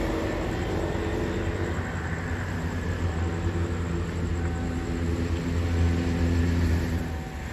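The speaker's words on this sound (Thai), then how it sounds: "มาดูรถไฟยามค่ำคืนที่ สามเสนกันบ้างนะฮะ" Special express train arriving at Samsen station in Bangkok at night, heard as a steady, loud rumble and roar of rolling stock that builds gradually toward the end, with no voices.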